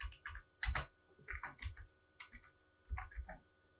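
Code typed on a computer keyboard in bursts of crisp, close key clicks with brief pauses between groups, in a quiet room.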